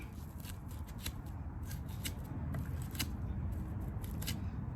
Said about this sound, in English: Let's try just a saw, just a normal saw cut.